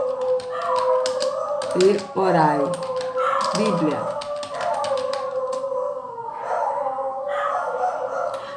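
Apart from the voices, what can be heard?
dogs barking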